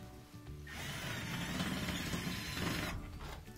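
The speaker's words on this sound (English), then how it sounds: "use a screwdriver to drive it in" Powered screwdriver driving a Phillips head screw while fitting a lid switch on a GE laundry center washer, one steady whirring burst of about two seconds, close but fairly quiet.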